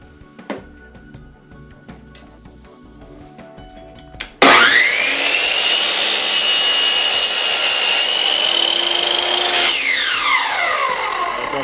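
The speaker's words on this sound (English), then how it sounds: "So we'll reset the saw to the proper angle." A woodworking saw cuts a mating joint for a crown molding jig, starting abruptly after quiet shop noise and running loud and steady for about five seconds before winding down with a falling whine.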